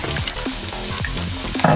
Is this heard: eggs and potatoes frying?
yes